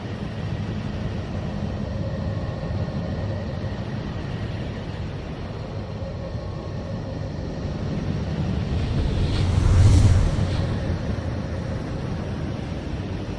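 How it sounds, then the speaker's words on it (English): Radio emission from the planet Neptune, a broad, continuous ocean-like roar with rushing noise that swells to a peak near the end before easing back, with no voices. "Neptune sounds like a vast, desolate ocean."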